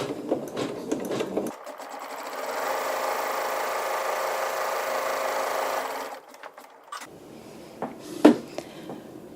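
A sewing machine stitches to tack fabric down, running in one steady close burst of rapid needle chatter for about five seconds, with quieter handling clicks and knocks before and after.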